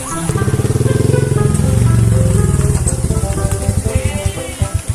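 A big motorcycle engine runs close by, a loud throbbing idle that swells with revs and then settles into rapid pulsing beats, with a voice audible faintly beneath it.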